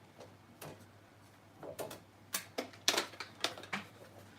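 A mini cutting machine trims a scrap of paper card with a series of sharp clicking snaps, sparse at first and then quickening into a rapid run of close, crisp clicks.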